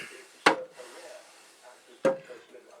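Bed of an Emco 5 CNC lathe dropping under its own weight during Z-axis gib adjustment, two short knocks about one and a half seconds apart, close and fairly quiet in a still room.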